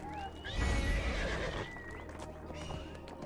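A horse whinnies loudly in the video game Neverwinter over a busy game soundtrack with engine-like noise, followed by lighter clip-clop hoofbeats and background music.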